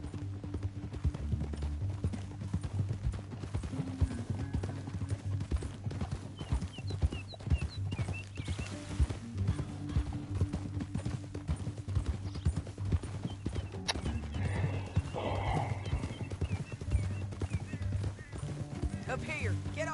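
Horse hooves gallop in a Red Dead Redemption 2 canyon chase, a rapid, continuous clip-clop beat running throughout with occasional neighs. Voices talk over the hoofbeats.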